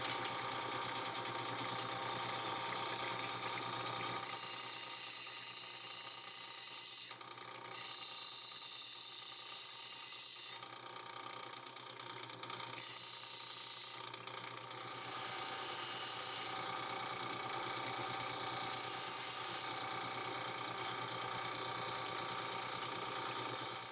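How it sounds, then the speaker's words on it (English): Cab machine grinding a Leland Blue stone for a belt buckle: a continuous loud mechanical whir with scraping grit, rising and dropping in pitch as the stone is pressed and eased against the wheel, with no talk. "then grind it on the cab machine"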